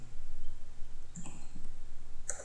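A computer mouse gives a couple of quick, crisp clicks at close range over a faint background hum, with no talking.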